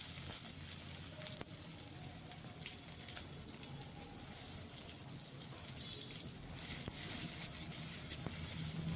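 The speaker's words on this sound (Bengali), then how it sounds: "এর মধ্যে এবার দিয়ে দেব বড় সাইজের কুচনো একটা পেঁয়াজ।" Chopped onion, cut large, frying in hot oil with bay leaves and whole cumin already tempered in the pan, giving a steady, close sizzle that runs continuously, with faint clinks now and then.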